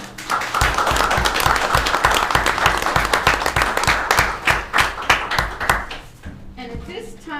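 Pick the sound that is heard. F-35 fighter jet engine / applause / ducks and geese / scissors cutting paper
applause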